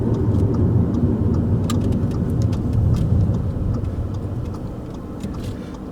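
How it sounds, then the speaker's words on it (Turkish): A 2017 Audi A3 engine accelerates in sport mode, a steady, fairly loud rumble of engine and road noise throughout, with no talking. "Bir de spor modda deneyelim."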